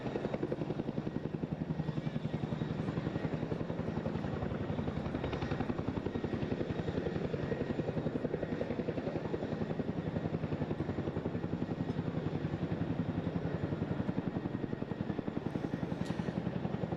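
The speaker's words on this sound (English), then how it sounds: "You can see that massive downdraft from the Chinook affecting the water there." A Chinook helicopter hovers low over the sea at the Eastbourne International Airshow, its heavy rotor thud beating in a steady, unbroken pulse that holds at an even, moderately distant loudness throughout.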